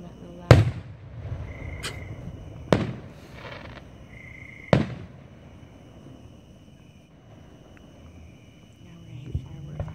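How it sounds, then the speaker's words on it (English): Fourth of July fireworks in Gentry, Arkansas: three sharp booming bursts spaced about two seconds apart, each with a short rumbling tail, followed by a fainter pop near the end. "Now we're gonna hit fireworks all night, baby."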